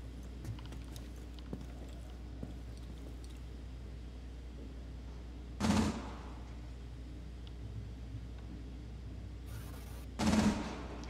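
Two distant, muffled gunshots a few seconds apart in Rainbow Six Siege, faint thuds over a low steady background hum.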